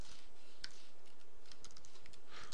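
Quiet, scattered keystrokes on a computer keyboard as JavaScript code is typed in a text editor, with a few sharper clicks over a low background hum.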